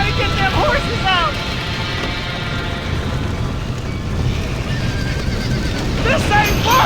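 Horses neighing and whinnying in the Western game Red Dead Redemption during a chaotic rescue scene, several high wavering calls under shouting voices and a steady rumbling background.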